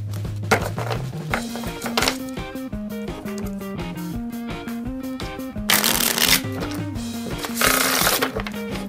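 Crisp bridge riffle shuffles of playing cards, a fast fluttering burst repeated several times, close up, with a steady musical backing underneath.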